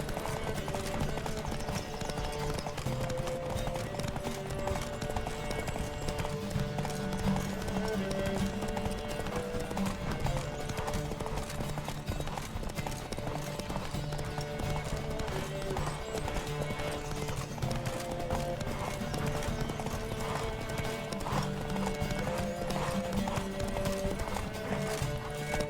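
Horse hooves galloping in The Witcher 3 during a race, a steady rhythmic clip-clop under continuous game music and ambience, with occasional whinnies.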